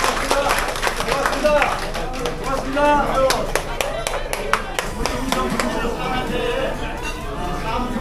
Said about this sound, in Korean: 박수 한번 해주시죠